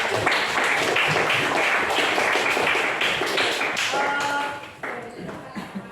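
Audience applause at an Indonesian teacher-certification class presentation on the Pancasila and the 1945 Constitution preamble: steady, dense clapping from a group that thins out toward the end, with a few scattered claps and faint voices.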